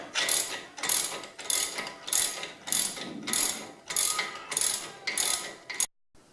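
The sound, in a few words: ratchet wrench removing Jeep Cherokee stock suspension bolt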